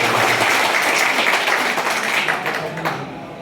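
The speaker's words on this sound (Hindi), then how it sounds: "एक बार जोरदार तालियां" Loud, enthusiastic clapping from a crowd at a municipal review meeting in Deshnok, Bikaner, dense and steady before tapering off near the end.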